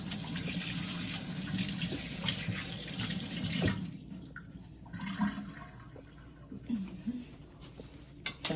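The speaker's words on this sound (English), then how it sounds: "I'm going to wash my hands, leave it right there." Kitchen tap water runs steadily and loudly for hand washing for about four seconds, then shuts off, leaving soft splashes and drips with faint talk in the background.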